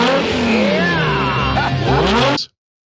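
A Ferrari Testarossa sports car roars past at speed in a police chase scene, its engine note sweeping in pitch over a loud, continuous rush before cutting off abruptly.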